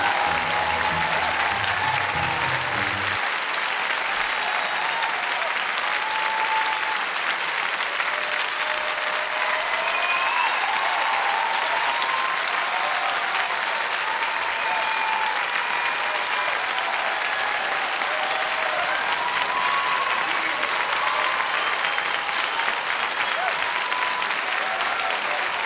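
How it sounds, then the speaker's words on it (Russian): A theatre audience applauds at the end of a performance in a long, dense, sustained burst of clapping. A brief low sound at the very start gives way to steady, even applause. "в зрительских аплодисментах, грянувших в конце спектакля"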